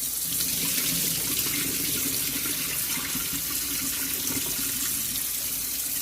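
Tap water runs steadily into a sink or bowl while rinsing rice, a constant close splashing rush with no talking.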